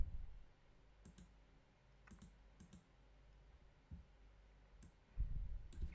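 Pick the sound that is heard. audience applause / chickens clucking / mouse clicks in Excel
mouse clicks in Excel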